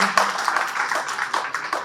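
Audience applause at RovoCon Bengaluru 2025 as a name is called from the stage: a dense, steady wash of many hands clapping for about two seconds, moderately loud and continuous, with no clear speech on top.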